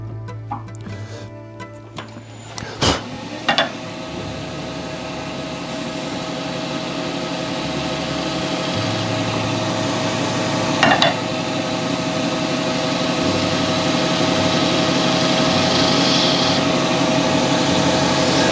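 A wood lathe turns a resin shaving brush handle against a hand-held cutting tool: a steady motor hum and whir with scraping that builds slightly in loudness, broken by a few sharp ticks and no talking.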